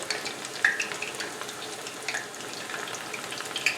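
Chicken pieces for orange chicken fry in hot oil, a steady crackling sizzle with small pops and bursts, close and continuous, no talking.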